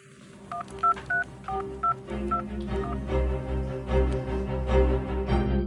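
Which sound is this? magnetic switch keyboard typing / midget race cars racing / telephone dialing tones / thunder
telephone dialing tones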